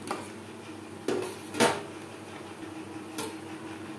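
A spoon scrapes and clinks in a pot of curry made with taro stolons and tilapia fish, a few separate knocks against the metal over a low background hum, close by.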